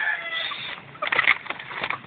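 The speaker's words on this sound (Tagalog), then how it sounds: "Ang tatlong inahin." Hens cluck and murmur nearby in short, uneven bursts over a soft farmyard background.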